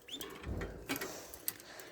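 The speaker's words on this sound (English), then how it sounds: "These are the zebra finches." Caged zebra finches give soft scattered calls and short chirps near a nest with eggs, with a coo-like note and brief wing flutters in a quiet indoor space.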